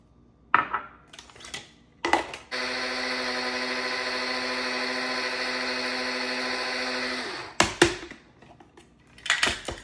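Electric spice grinder whirring steadily for about five seconds as it grinds coriander seeds into fine powder, loud and close, with short clatters of the jar and lid before and after.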